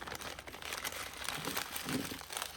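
Soft, continuous crinkling of a plastic bag, close by, with no talking.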